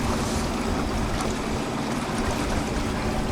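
A sailboat motor sails across glassy, calm Gulf of Mexico water on its way from Galveston to Port Aransas, giving a steady broadband wash of hull, water and engine noise with no breaks.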